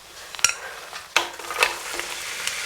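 Zucchini frying in olive oil gives a close, crackly sizzle, punctuated by a few sharp clacks of utensils against the pan.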